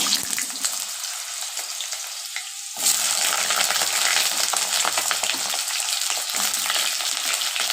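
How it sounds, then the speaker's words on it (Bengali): Potatoes dropped into oil already used for frying peanuts burst into a loud, dense sizzle at once, then keep hissing and bubbling steadily close by, with occasional stirring. "প্রথমে আমি আলু ফ্রাই করতে দেব।"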